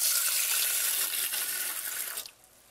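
A cup of cold water pours steadily into a pot of rice for spicy yellow rice, a continuous splashing rush that stops sharply near the end.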